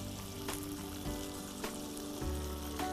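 Brinjal and paneer curry sizzling in a pan as it is mixed, a soft continuous fry with a few spoon scrapes and knocks, faint and close, no voices.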